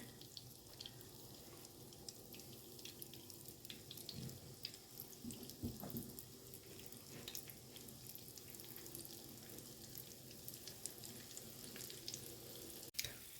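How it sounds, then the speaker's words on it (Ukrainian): Steady crackling sizzle of pies frying in hot oil in a pan, continuous and close, with a few faint clinks and no talk. "Підсмажу на сковорідці в олії"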